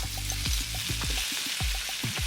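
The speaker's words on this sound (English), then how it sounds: "add your pork to the pan, making sure you hear this sound." Pork sizzles and crackles steadily in a hot frying pan, with occasional scraping and clinks of a utensil.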